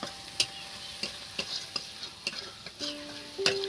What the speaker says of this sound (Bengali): রসুনটা না একটু ভালো করে ভাজতে হবে